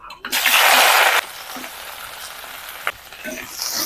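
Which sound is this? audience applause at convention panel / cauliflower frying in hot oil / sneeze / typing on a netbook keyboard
cauliflower frying in hot oil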